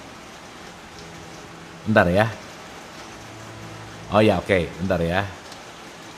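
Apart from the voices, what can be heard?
rain falling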